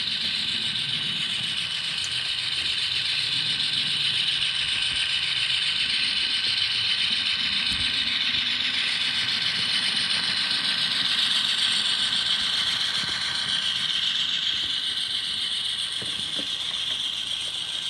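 An N scale GE C44-9W model diesel locomotive runs steadily on a layout, giving a continuous whirring, mechanical gear hum with faint rattles throughout and no talking.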